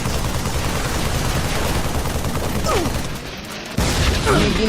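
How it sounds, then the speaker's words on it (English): Fully automatic weapon fire in the Halo video game, a dense continuous rattle of rapid shots with a brief dip near the end before resuming, with some game voice sounds mixed in. "Please tell me this is a fully automatic weapon."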